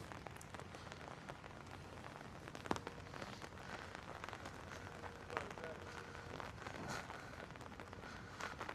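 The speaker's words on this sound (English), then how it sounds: "Let you guys listen to the rain." Rain falls steadily on a Vancouver street, a soft continuous patter with a few sharper drips and faint passing street noise, heard alone at a low level.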